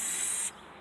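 A short burst of battery terminal anti-corrosion aerosol spray, a bright steady hiss that cuts off abruptly, leaving a faint background.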